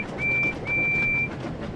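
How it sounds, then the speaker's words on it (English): A steam train whistle from a Thomas the Tank Engine video game sounds in two clear tones, a short blast followed by a longer held one, over a steady rumble. "The train whistle is like a semi-truck horn."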